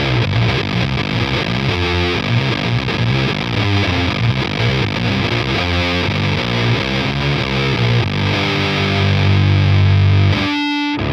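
Electric guitar played through a Walrus Audio Melee shoegaze pedal with distortion and reverb, a thick, heavily saturated wash of sustained chords with a swelling ambient tail, loud and continuous, ending in a brighter ringing chord.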